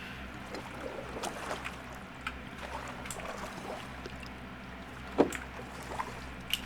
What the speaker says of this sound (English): So this one's kind of the sounds of someone canoeing and then docking the boat.